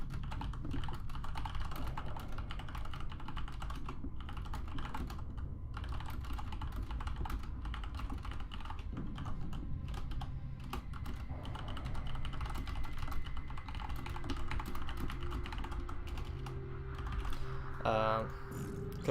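Someone types a message on a computer keyboard, producing continuous, fast clattering keystrokes over a steady, noisy background hum, with a few brighter mechanical clicks near the end.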